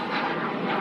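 A small business jet's engine roars steadily from nearby with a broad, even whoosh at Glasgow airport, with no break or voices.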